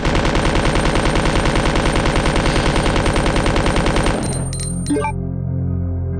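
Rapid automatic gunfire from the Resident Evil 2 video game rattles loudly in a steady stream for about four seconds, then stops, leaving a few clinks and a low hum.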